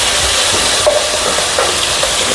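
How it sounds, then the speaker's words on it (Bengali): Ginger paste sizzling in hot oil for a home-cooked dish, a loud, dense hiss with scattered sharp spatters and pops, close and continuous. "আদা বাটাটা তেলের মধ্যে দিলে আদা বাটাটা ছিটে বেরিয়ে আসে"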